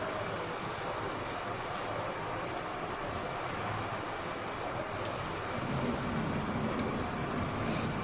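A steady, loud rotor and engine roar from a helicopter in the horror game Granny 2, droning on without a break and swelling slightly toward the end.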